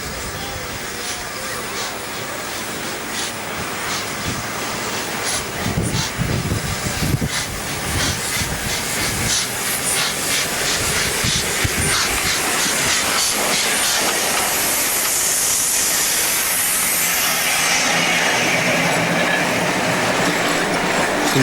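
The Flying Scotsman steam locomotive running during its Australian tour while double-heading with 3801. A steady, continuous roar of steam hiss and rail clatter carries through the whole stretch and builds slightly louder toward the end.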